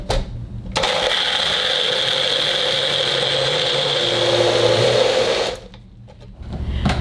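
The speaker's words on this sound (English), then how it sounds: "we're gonna take it over here and we're gonna blend it up." A Magic Bullet blender whirs steadily as it blends almond milk ingredients, a loud continuous motor drone that runs for several seconds and then cuts off, leaving a quieter background.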